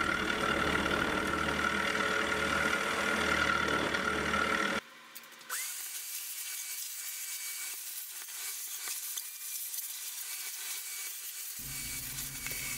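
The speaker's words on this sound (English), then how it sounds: "instead of using the fly cutter, I'll use the end mill. And it's really cutting through it really nicely." End mill cutting metal on a lathe in a home workshop, a steady loud grinding whine for several seconds, then a sudden drop to a quieter, thinner cutting hiss before the heavy sound returns near the end.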